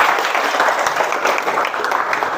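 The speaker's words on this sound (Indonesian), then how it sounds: "Oke, bagus sekali. Tepuk tangan untuk kalian semua." Classroom students applaud together, a dense, steady burst of clapping close by that holds at an even level throughout.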